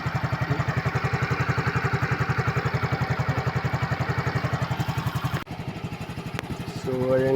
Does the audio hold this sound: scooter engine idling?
yes